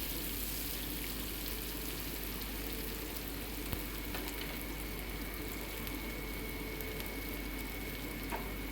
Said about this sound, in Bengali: দিয়ে এটাকে আমি একটু ভেজে নিচ্ছি, একটু লাল করে ভেজে নেব।